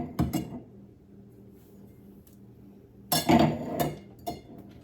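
Drinking glasses and a wine glass clink sharply as they are set down in a kitchen cabinet near a coffee bar. A couple of bright knocks come first, then a louder cluster of clinks after a quiet pause.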